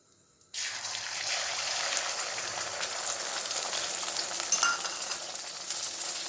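After a brief silence, an egg hits hot oil in a wok for an omelette and bursts into a loud, crackling sizzle that keeps spitting and popping steadily up close.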